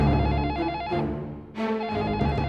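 A telephone rings loud and close, two bursts of electronic trilling separated by a short pause.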